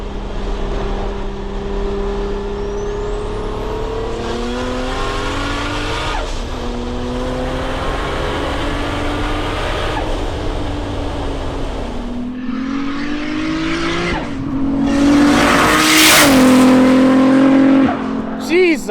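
A Toyota IS300 with a 1JZ engine pulls hard from inside the cabin, its engine note climbing through several gears, with brief dips at each shift. It builds to a louder, harsher surge near the end, with people talking over the engine.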